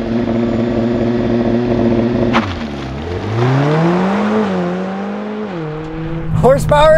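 A 2020 Mercedes-AMG CLA45 4MATIC Plus with a turbocharged 2-liter four-cylinder, idling loudly, then launching hard with Race Start, the engine revving up through a gear change before easing off, with a brief sharp sound at the end.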